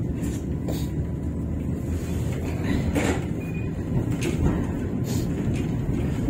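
A tram rolls through Odessa on a winter day, its low continuous rumble and rattle filling the car, with brief squeaks and clunks of the wheels and body, no talk.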